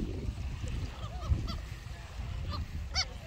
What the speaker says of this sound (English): That's just a seagull squeak.